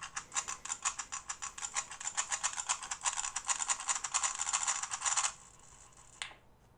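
Rapid plastic clicking and ticking from an electronic Futuro Cube puzzle scrambling itself, in a quick, steady rhythm for several seconds, then stopping, leaving faint quiet.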